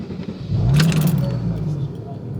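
2014 Porsche 981 with a crankshaft position sensor fault, cranking and struggling to start, then catching into a rough, rising engine rumble that settles and fades, with a voice speaking nearby.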